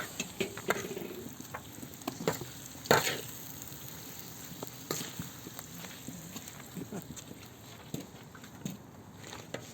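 Adana saç kavurma meat sizzles and fries on a saç pan while being stirred, a steady crackling hiss broken by scraping and clattering strokes, heard up close and fairly quietly, with occasional voices in the background.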